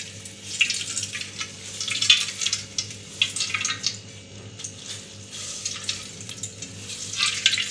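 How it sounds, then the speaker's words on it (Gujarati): Wet momo stuffing wrapped in a cloth bundle is squeezed by hand, giving soft intermittent trickles and splashes of draining water over quiet background music. "આવી રીતે આપણે પાણી કાઢી લઈશું."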